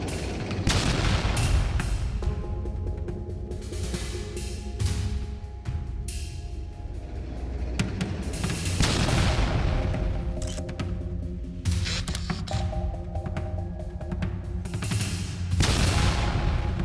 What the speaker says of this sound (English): Batteries immediately unleash a massive barrage on the area, turning the open fields into a kill zone.